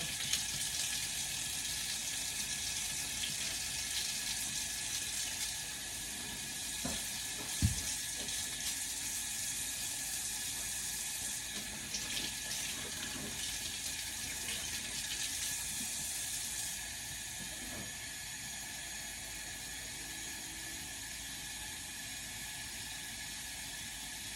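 Cold water running steadily from a tap into a measuring cup, a continuous hissing splash with a couple of soft clunks partway through.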